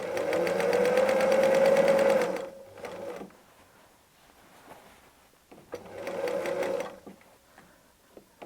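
A sewing machine stitches fabric for a patchwork Advent calendar in two loud, rapid whirring runs, each a couple of seconds long. A quiet pause with faint handling and clicks falls between them.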